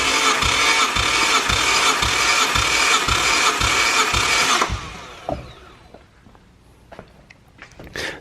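An R33 Skyline engine cranking over on the starter during a compression test, a fast even rhythmic chug for about five seconds that stops abruptly, followed by scattered clicks and faint workshop noises, close and loud.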